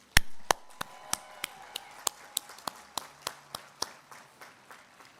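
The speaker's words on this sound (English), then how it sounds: "Let's give them a round of applause." Applause for the ESU graduating class of 2021 at a commencement ceremony: about a dozen and a half sharp, separate claps in a slow, uneven rhythm, echoing in a large space and fading slightly toward the end.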